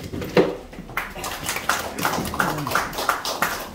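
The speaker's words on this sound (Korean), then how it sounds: "우리 김오경 회장님 박수 한번 쳐주십시오" A small gathering at a Korean political event claps for chairman Kim O-gyeong in an irregular, rhythmic patter of individual hand claps, close and fairly light, continuing steadily to the end.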